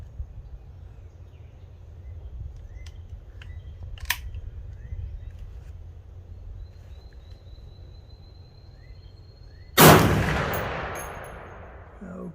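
A single sharp, loud rifle shot from a 350 Legend firing a 90-grain zinc bullet at 50 yards rings out near the end, decaying over a couple of seconds after quiet outdoor ambience and a faint earlier click.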